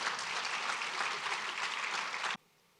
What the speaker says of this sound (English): Yeah, please applaud.